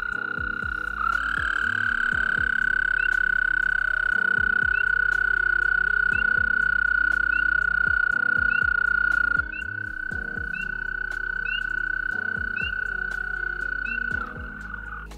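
A continuous high-pitched trill from male American toads calling during breeding season drones steadily and close, with quieter chirps and faint background sounds throughout.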